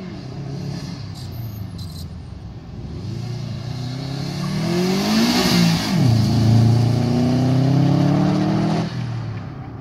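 A Subaru revs hard and spins out on the track at Pikes Peak International Raceway, the loud engine note climbing and sweeping in pitch before dropping and surging again.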